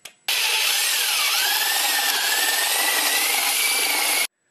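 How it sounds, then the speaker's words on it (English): A power drill boring a hole into a wooden birdhouse, one steady loud whirring grind that starts abruptly, holds for about four seconds and cuts off, close up with no talking. "So now we're going to drill a hole right there"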